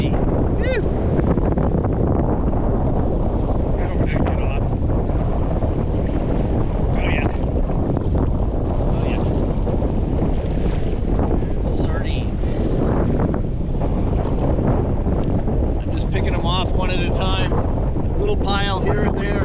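Strong wind buffets the microphone on a fishing boat drifting with live bait for California halibut, a loud, continuous roar with water and hull noise beneath and occasional voices breaking through.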